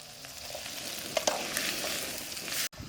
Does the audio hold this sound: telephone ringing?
no